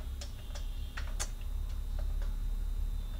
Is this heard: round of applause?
no